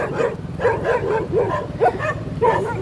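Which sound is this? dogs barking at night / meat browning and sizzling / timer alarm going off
dogs barking at night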